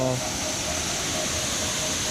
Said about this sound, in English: Waterfall's just getting bigger and bigger.